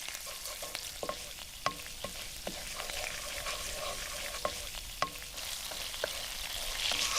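Anchovies frying in oil in a pan, a continuous close crackling sizzle with occasional stirring clicks and pops.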